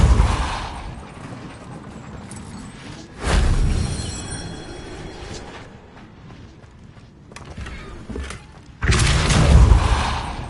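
Depulso spells cast in Hogwarts Legacy, loud close bursts of magical force with low booming thumps, three distinct blasts spaced over several seconds amid lingering game ambience.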